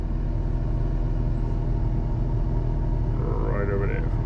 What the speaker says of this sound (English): truck number 8 just leaving